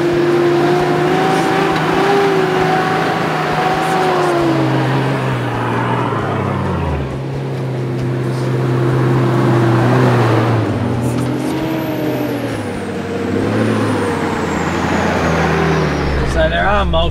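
A car towing a trailer along a desert track in the Simpson Desert, heard from inside as a loud, steady engine drone with shifting pitch and rumbling road noise throughout.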